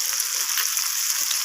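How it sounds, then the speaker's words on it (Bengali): Ground cumin, salt and ginger paste sauté in oil in a pan for vegetarian khichuri, giving a soft, steady sizzle with faint scraping from stirring, close and unbroken, with no talk. "সমস্ত কিছু মশলা এইভাবে নাড়াচাড়া করে আমি সমস্ত কিছুর সাথে এইভাবে কষিয়ে নিচ্ছি"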